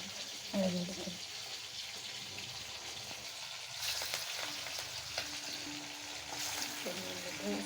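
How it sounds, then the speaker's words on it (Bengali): Herb fritters frying in hot oil in a pan, a soft steady sizzle running throughout with occasional stirring clinks and faint background noise. "আমি এক এক করে বড়াগুলো এখন ভাজা নিব।"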